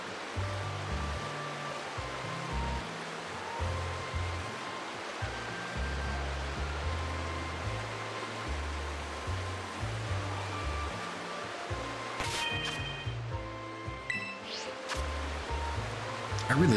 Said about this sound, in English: I really like this waterfall being right here.